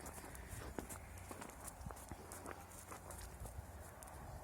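Hooves of a ridden horse wearing a pink bridle clip-clop faintly on the ground in an irregular walking rhythm, soft and somewhat distant beneath a quiet background hiss.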